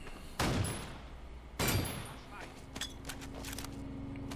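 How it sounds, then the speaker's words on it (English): Two loud, sharp sniper rifle shots in a D-Day World War II video game, about a second apart, each with a decaying echo, followed by quieter distant battle noise and faint movement. "Sniper rifle."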